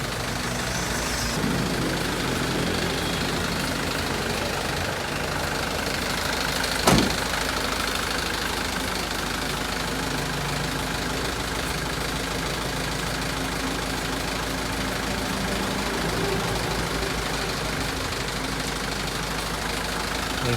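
A Mitsubishi Canter diesel truck engine idles with a steady, raspy rumble, close and continuous, with one sharp knock partway through.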